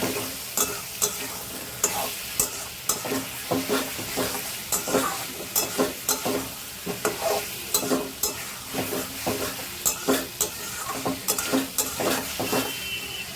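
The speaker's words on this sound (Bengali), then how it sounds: "আলু মাংস সব একসাথে কষাবো" Potatoes and chicken sautéing together in a pan, a steady sizzle broken by repeated scraping stirs and clinks of a spoon against the metal, close and fairly loud throughout.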